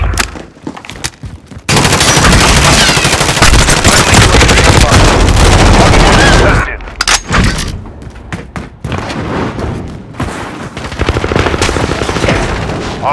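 Gunfire during a Call of Duty Hardpoint match, with a loud, dense stretch of continuous automatic fire and booms. It breaks off, then returns as scattered, quieter bursts.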